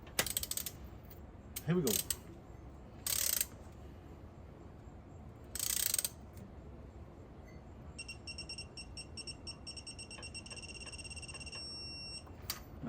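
A ratchet torque wrench snaps through several quick clicking bursts while tightening cylinder head bolts to 30 foot-pounds, then gives a lighter run of rapid ticks. The sound is close and clear, with a brief voice at the start.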